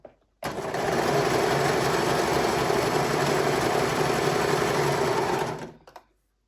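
An overlocker serger sewing machine starts abruptly and runs at a fast, steady buzzing whir for about five seconds before stopping, close and alone.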